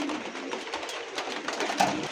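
A red checker king pigeon coos softly among light rustling, a low murmuring call standing out near the end over a faint background.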